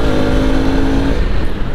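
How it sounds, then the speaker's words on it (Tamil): Exhaust note of a Bajaj RS 200 motorcycle, a loud, steady engine drone held near, with a high tone that fades partway through, no talking over it. "எக்ஸாஸ்ட் நோட் வந்து உங்களுக்கு கேட்குதுன்னு நினைக்கிறேன்."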